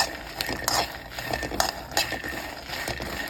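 Dry-roasted chilies and garlic are stirred in a pan with the stove off: a soft, continuous scraping and light clinking of a utensil against the pan, fairly faint, with no talk.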